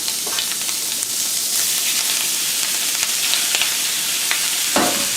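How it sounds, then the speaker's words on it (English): Handmade biang biang noodles dropped into a pan to cook: a dense, steady bubbling sizzle with light clinks and a splashy thump near the end. "So I'm going to put the noodles in now."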